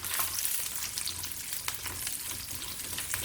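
Ginger, garlic, cashews and poppy seeds frying for a Chettinad curry give a steady, close sizzle with light stirring scrapes throughout.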